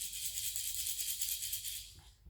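A handheld shaker rattles continuously in a bright, steady hiss-like shuffle, moved side to side around a baby's head during sensory play, then stops abruptly near the end.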